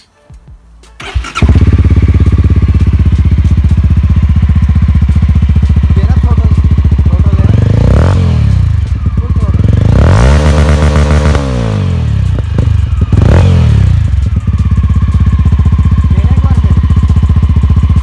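A 2018 Mahindra Mojo 300cc motorcycle with a loud exhaust starts up close and idles with a heavy, rumbling beat, then revs sharply several times and settles back to idle between the revs.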